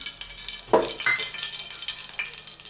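Hot oil sizzling on a heated tava as two spoonfuls are poured in for tempering, a sharp hiss that flares up, eases and flares again, close by against a low steady kitchen background.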